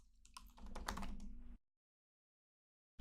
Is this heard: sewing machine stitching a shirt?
no